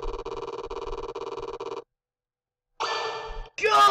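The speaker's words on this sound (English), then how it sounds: "The phone is resonating." A telephone in the video game Undertale rings in two repeated electronic bursts, a steady trilling pattern for nearly two seconds, then silence before it starts again, followed by a brighter warbling tone at the end.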